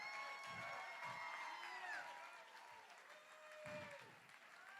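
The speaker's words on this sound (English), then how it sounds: "Let's give them a round of applause." Audience applause at a charity gala auction, a steady wash of clapping with a few whoops, and voices and cheers mixed in throughout.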